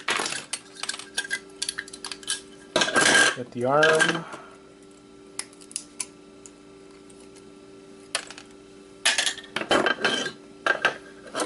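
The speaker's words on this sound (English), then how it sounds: "let's go do a little bit more hammering because it has that clip." Sharp metallic taps and clinks in irregular bursts from a hammer striking an old Xbox hard drive, with a person talking between the hits.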